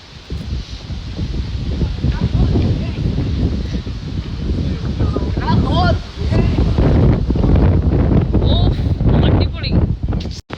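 Strong gusting wind outdoors in Baku, Azerbaijan, a loud continuous broadband roar buffeting the microphone throughout, with people talking over it.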